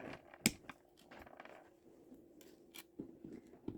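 Small cutters snipping through jewelry chain links for a strawberry dangle tumbler charm: a few quiet, crisp clicks, one sharper snip near the start and lighter ones later, close up in a quiet room.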